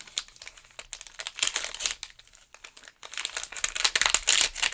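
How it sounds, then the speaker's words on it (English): A paper envelope is torn open in bursts of crinkly ripping, close and fairly loud, with brief pauses between the tears and no talking. "I can never open this envelope without ripping it"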